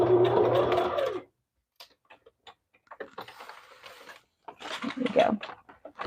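A sewing machine stitches a fabric cover made for a masterboard. A loud, dense run of stitching is followed by silence, then sparse clicks and short, uneven bursts of stitching at close range.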